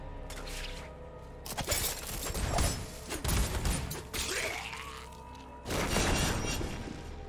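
Several loud crashing bursts and shattering booms of enemies exploding in Diablo 4, coming in irregular waves with short gaps between them.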